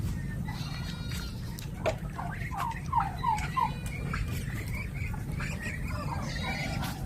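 Hungry farm turkeys gobble while waiting for feed, several bubbling calls at close range over a steady low background rumble.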